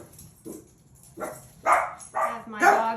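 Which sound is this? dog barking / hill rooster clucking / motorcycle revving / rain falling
dog barking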